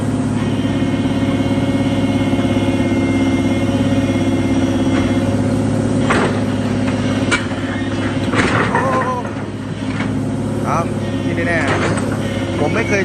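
A backhoe's diesel engine rumbles steadily as it drives down off a trailer, with occasional clanks and metallic knocks over the drone and people talking nearby.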